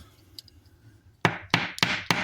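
A bolt struck hard several times during assembly of a 3D-printed tuner: four loud, close impacts with short ringing tails, evenly spaced after about a second of near silence, with no talking.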